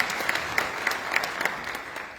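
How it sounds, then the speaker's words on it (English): An audience claps for English students at a live presentation, soft, fairly distant applause with a few individual claps sounding out at a regular beat over the quiet wash. "So please, I would like you to clap for them."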